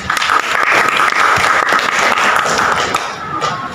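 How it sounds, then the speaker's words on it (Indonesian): A room of people applauds a participant, steady dense clapping sustained throughout at close range, with no talk over it. "Berikan aplaus buat Ima."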